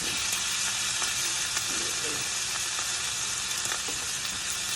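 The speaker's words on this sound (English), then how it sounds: "This is a great way to cook a steak if you don't have a grill." Steak searing in a pan on the stove, a loud, steady, close hiss and crackle of sizzling fat with faint occasional clinks, no voices.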